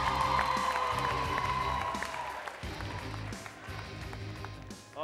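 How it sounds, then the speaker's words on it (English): Studio audience at the Tusker Project Fame Season 5 eviction night applauding and cheering for the judges, a loud, full crowd roar of clapping with whoops, easing slightly toward the end. "Big round of applause."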